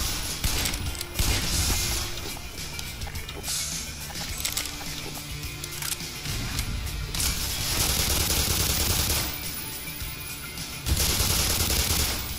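Sustained automatic gunfire from the video game Black Mesa, loud rapid bursts of shots running almost continuously with brief dips between volleys.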